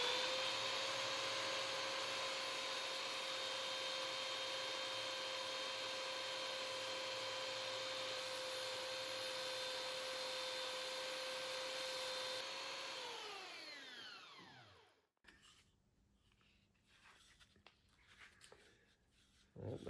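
A power sander whirs steadily with a high, even motor whine while sanding down a wooden handle, then winds down and stops, leaving faint handling noises.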